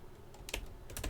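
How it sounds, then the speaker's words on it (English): A few quick keystrokes on a computer keyboard, crisp close clicks in two short bursts over a faint background hush, with no one talking. "And then we're going to type in interface"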